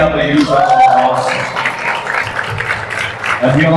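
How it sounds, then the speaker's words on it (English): An audience applauds at a promotional event for a biopic film about a Sri Lankan spin bowler, with clapping running steadily under voices for a few seconds. "Can we have a huge round of applause?"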